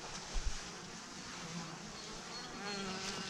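Honeybees working combs inside a hive make a close, steady buzzing drone with a few soft bumps, continuous for a few seconds.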